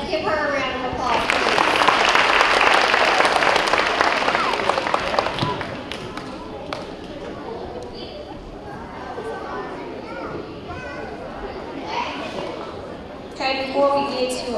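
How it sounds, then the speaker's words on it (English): Applause and clapping in a school hall at a third and fourth grade awards ceremony, loud at first and fading after a few seconds, with children's voices and chatter continuing underneath and rising again near the end. "Let's give her a round of applause."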